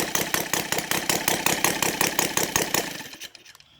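Saito 450 model engine converted to gasoline with CH ignition, running at a fast steady rhythm of sharp firing pulses, loud and close, then cutting out and fading to silence at the end.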